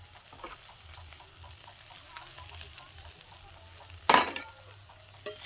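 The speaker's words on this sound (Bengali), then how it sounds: "এবার আমি আরও ভালো করে আরেকটু ওই জিরে গুঁড়োটা দিয়ে কষিয়ে নেব" Rohu fish curry with cumin powder, green chili and five-spice frying in a pan, a soft steady sizzle with light stirring, then a sudden loud burst of sizzle or clatter near the end.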